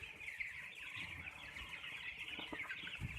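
Broiler chickens in a meat-bird poultry house cluck and murmur softly and continuously, a faint flock chorus with a few sharper calls near the end and no talking.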